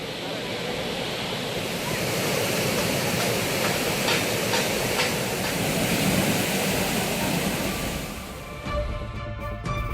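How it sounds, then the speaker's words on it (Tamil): Old Courtallam waterfall in flood after continuous rain in Tenkasi district, a loud, steady roar of heavy rushing water that fills the whole clip, close and unbroken, easing slightly near the end. "பழைய குற்றால அருவியில் திடீரென்று வெள்ளப்பெருக்கு ஏற்பட்டது"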